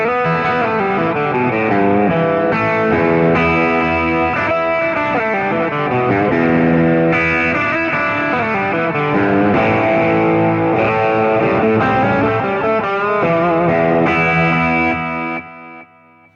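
An electric guitar played through an Alcambo overdrive pedal, with a Flashback delay and a touch of reverb, rings out in a warm, gritty bluesy rock riff, steady and loud throughout before the final chord fades.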